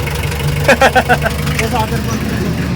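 A Mitsubishi L300 van engine runs at idle with a steady low rumble and a few rhythmic knocking pulses, close by, under background talk.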